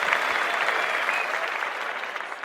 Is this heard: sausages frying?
no